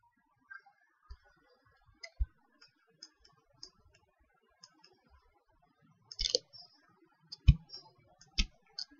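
Sparse computer mouse clicks while working in HyperMesh CAE software, with single sharp taps scattered across a quiet room and a brief cluster of quicker clicks near the end, no talking.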